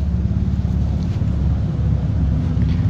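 Wind gusting steadily across a drained lake bed in Maine during digging, a loud, constant low rumble buffeting the microphone with no talking.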